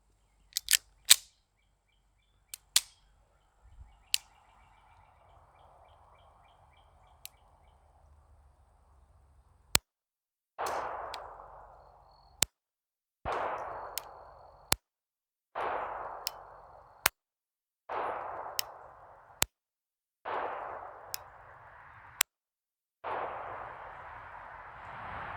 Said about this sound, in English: fire a few rounds down range